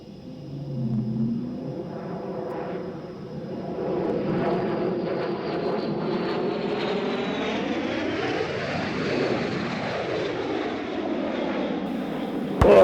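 An aircraft making a low approach at an airshow roars past, loud and steady for about thirteen seconds, its engine pitch sweeping downward as it passes overhead, with no talk over it.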